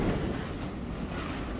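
Wind whips steadily across an outdoor garden, a broad, rushing roar that buffets the microphone throughout a short stretch with no voices.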